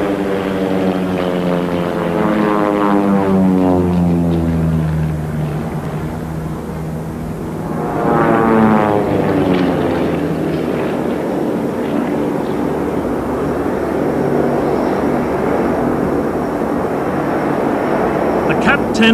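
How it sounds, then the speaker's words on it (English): A CAP 10 aerobatic propeller plane, a two-seat side-by-side aircraft, flies past at a 1987 Fairford airshow, its engine drone rising and falling steadily throughout with commentary voices over it. "Cap 10's an interesting plane."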